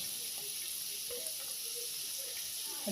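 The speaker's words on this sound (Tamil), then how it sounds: "வெங்காயம் எண்ணெயிலே நல்லா வதங்கிட்டங்க கலர் மாறுற அளவுக்கு வதங்கிட்டேன்" Onions frying in oil give a steady, soft, hissing sizzle that holds throughout, with a brief clatter and louder sizzle right at the end.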